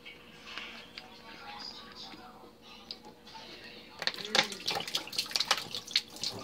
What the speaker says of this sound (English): I'm getting put some cold water in the bottle from the fridge to rinse it out.